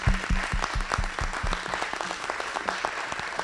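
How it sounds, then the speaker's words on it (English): Audience applause for Mayor Clint Folsom at the State of Superior event, a steady sustained wash of many hands clapping throughout. "I think we owe him a round of applause"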